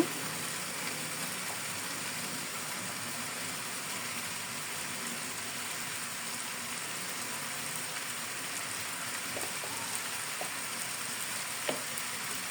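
Olive pickle cooks in a pan while being stirred, a soft, even frying hiss throughout with a few faint scrapes or taps toward the end.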